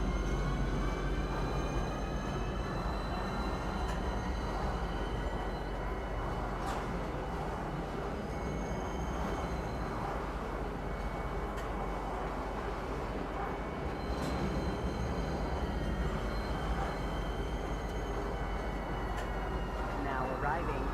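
A train arriving at Kisa Spaceport in a video game, a continuous close rumble of rolling carriages with faint metallic squeals, under a voice making a station announcement.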